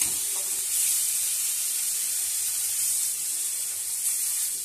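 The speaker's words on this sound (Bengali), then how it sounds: "জল দিয়ে দিলাম।" Water poured into tomato-based fish curry masala in a hot pan sets off a steady, close hiss of steam and sizzle that holds evenly throughout without pause.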